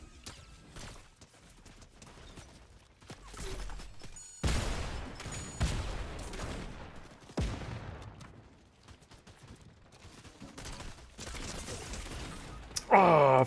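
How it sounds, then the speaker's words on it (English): Gunfire and explosions in the video game Fortnite, a chaotic stretch of loud bursts, rapid shots and blasts in uneven clusters, with a brief electronic game sound near the end. "there's people shooting at us from up above"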